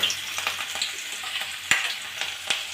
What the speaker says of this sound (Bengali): আমরা কড়াটাতে একটু তেল দিয়ে তেলটা একদম গরম করে নিয়েছি